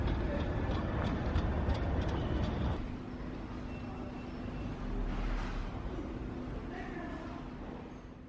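A train at Gravesend railway station in Kent rumbles loudly for a few seconds and then fades into a quieter, steady hum with a faint whine. The ambience of the platform continues underneath.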